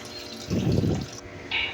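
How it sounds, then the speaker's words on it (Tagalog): Water runs from a tap into a cooking pot, a brief steady gush of about half a second, fairly close and alone with no talking. "nagpupuno tayo ng tubig sa lutuan"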